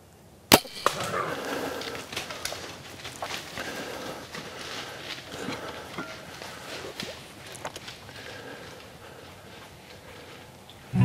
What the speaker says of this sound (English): I let the arrow fly